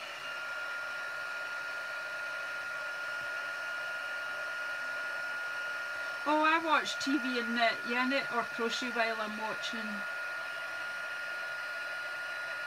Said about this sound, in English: I'm just going to heat up the embossing, the heat gun even